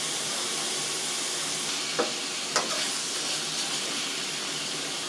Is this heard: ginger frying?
yes